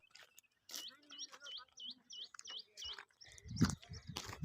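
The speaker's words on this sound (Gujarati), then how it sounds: "સરસ મજાનો મોરલો બોલે." Bird calls ring out near a temple in the evening, a run of repeated rising tonal notes in steady rhythm, moderately close, with a low rumble and rustle at the end.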